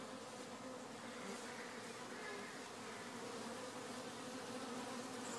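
Honey bees buzz steadily around an active hive, a dense, continuous drone that holds at an even level throughout with no voices.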